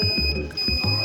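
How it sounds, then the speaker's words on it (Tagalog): An electronic buzzer in a simple robotics circuit beeps in the SOS Morse code pattern, short sharp tones with a steady high-pitched electronic whine beneath. "make the buzzer beep in the pattern of SOS Morse code"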